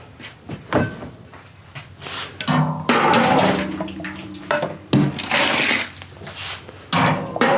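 Water splashing and pouring in bursts into a thick homemade bourbon mash of grocery-store ingredients, several separate pours of varying loudness close by, with no talking.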